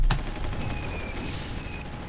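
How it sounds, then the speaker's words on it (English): MiG jets bombing a town in Supreme Ruler Ultimate: one sharp blast at the start, then a steady rumble of distant explosions and crackling fire beneath a thin tonal whine, with no voices. "I think we send all the MiGs in. See if we can bomb them"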